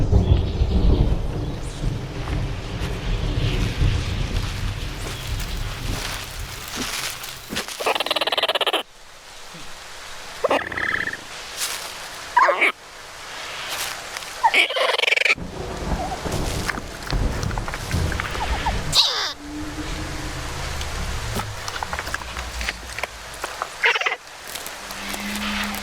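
Small, stout Psittacosaurus dinosaur calls from the game Prehistoric Kingdom: a run of short, chirpy croaking vocalizations, fairly loud and close, broken by brief pauses, over a rumbling ambient background like distant thunder and rain.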